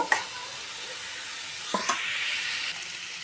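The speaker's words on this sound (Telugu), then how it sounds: "వేసుకొని ఒకసారి ఇలా మంచిగా కలిపేసుకొని లో ఫ్లేమ్లో ఆనియన్స్ని మగ్గనిద్దాము" Onions with salt cook on a low flame while being stirred, giving a steady soft sizzle with a few light scraping knocks from the spoon, close by and alone.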